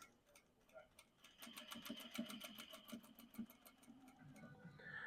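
Sewing machine stitching knit fabric slowly around armhole curves, its needle ticking in a quick even rhythm that starts, runs steadily and pauses, close and fairly quiet.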